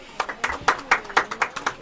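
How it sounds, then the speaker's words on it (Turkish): A small group claps for Oli, with a short burst of about a dozen quick, loose claps close by and some voices mixed in. "Abi Oli'ye bir alkış"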